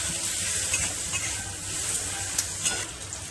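Chopped onion frying in a small amount of oil over low heat for a Bengali egg korma, giving a steady dense sizzle with occasional spatula scrapes and pops, close and continuous.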